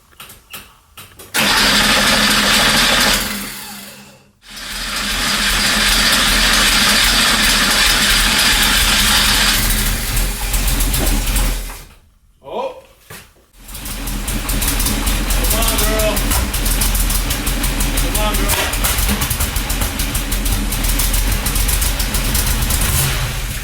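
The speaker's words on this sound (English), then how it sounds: "I'm gonna go ahead and turn the key, let it prime for a second, and try to start it" A 1977 Porsche 911 IROC engine cranks and roars to life, cuts out briefly, then restarts and settles into a loud, steady, rumbling idle close by.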